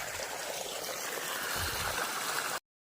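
Irrigation water flowing out through two broken openings in farm field channels, a steady close rushing and gurgling with a low rumble, continuous until it cuts off abruptly.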